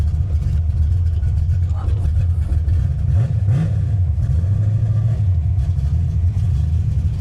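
A Ford car engine running rough and rowdy, a loud, close, continuous low rumble with slight throttle swells, and brief talk faintly underneath.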